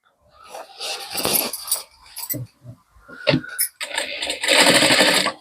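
Sewing machine running in bursts while lace is stitched onto a blouse, with a clinking of metal parts between the runs and a long steady run at the end, heard close up.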